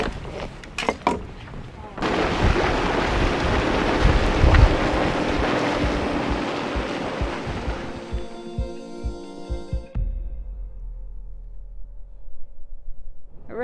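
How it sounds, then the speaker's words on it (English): Loud, steady rushing of water in the Yellowstone geyser area on Geyser Hill near Old Faithful, a broad roar with wind buffeting that thins out after about eight seconds, leaving a quieter, breezy background. "the sound of all that water."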